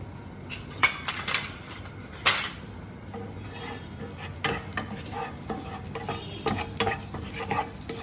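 Garlic going into hot mustard oil, stirred with a utensil that clinks against the pan under a steady sizzle, with two sharp knocks near the start and busy scraping throughout.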